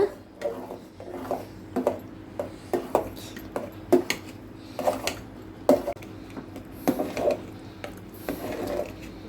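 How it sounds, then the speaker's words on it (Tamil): Ragi flour batter stirred into water in a cooking pot, with repeated light clinks and scrapes of a spoon against the pot in an irregular rhythm. The sounds are close and moderately quiet, with no talking. "நம்ம கலக்கிக்கிட்டே ஊற்றணும், இல்லைன்னா உருண்டை ஆகிடுங்க"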